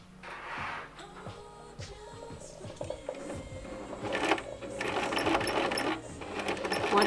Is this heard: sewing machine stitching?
yes